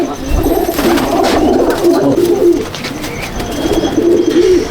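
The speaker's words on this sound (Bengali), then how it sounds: "এই পায়রাটা ছাড়ছি, দেখো" A pigeon at a loft coos in low, rolling phrases as it is released, close and loud, with brief pauses between bursts of cooing.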